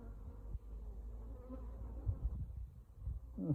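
Honeybees buzz close around a beehive box, a steady low droning hum with individual insects swelling louder as they pass near, and occasional soft handling knocks.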